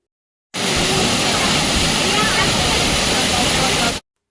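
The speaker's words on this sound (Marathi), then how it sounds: "पाणी बघा ना किती वाढला, इथं मस्त धबधबा बनलेला" Swollen water pouring down a hillside waterfall, a loud, close and unbroken roar of rushing, splashing water that holds steady from start to finish.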